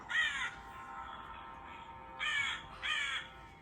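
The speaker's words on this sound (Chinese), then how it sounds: "有乌鸦，食人怪的城堡，再听一次哦，有什么？ 乌鸦。" A crow caws three times, harsh and fairly loud, one call at first, then a pair after a pause, over a faint steady background hiss.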